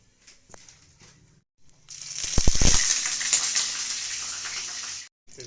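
Whole garam masala, cardamom and cinnamon hit hot oil for a Bengali-style mutton curry, with a burst of crackling pops giving way to a steady, close sizzle that holds for a few seconds before cutting off.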